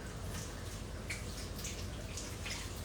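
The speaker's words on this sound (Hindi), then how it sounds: "सॉरी मैं हाथ धो रही हूँ" Tap water runs steadily as hands are washed in a home kitchen, a constant hiss with a few small splashes and drips, close and fairly loud.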